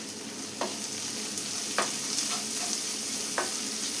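Sautéed onions with salt stirred in a pan for a moringa leaf curry: a steady close sizzle of frying runs throughout, broken by three distinct spoon scrapes against the pan at uneven intervals, with no talking.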